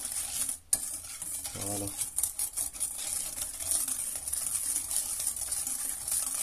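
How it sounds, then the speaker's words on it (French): Egg yolks and sugar for crème pâtissière are whisked in a bowl, giving a quiet, steady scraping and tapping of utensil against bowl, close, with a single brief spoken word near the start. "Vous mélangez les 4 jaunes d'œufs avec les 80 grammes de sucre"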